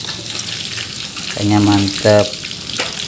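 Catfish frying in hot oil gives a steady, close sizzle for a breakfast cook-up, while someone talks briefly over the bubbling crackle.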